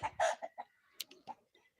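Chickens at a home flock with roosters and hens make a close, loud burst of clucking, followed by several shorter clucks and calls in an irregular rhythm, with no talk.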